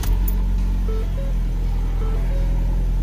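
A Ford Focus with a DPS6 dual-clutch transmission and a clutch stuck engaged fires up with a brief burst, then settles into a steady, close, low idle rumble, with a few short electronic beeps sounding over it.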